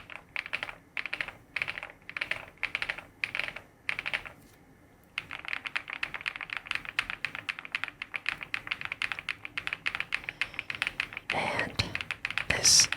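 Fingers type on an Epomaker Galaxy100 mechanical keyboard in crisp, close clacking bursts, with a brief pause before a long, fast, steady run of keystrokes.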